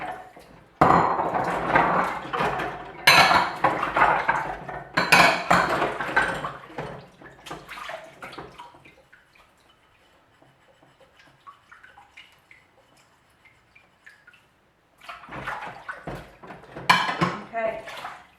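Greasy cups and a pan being rinsed at a kitchen sink, with bursts of clattering crockery and splashing water, a quieter spell of faint running water, then more clinking toward the end.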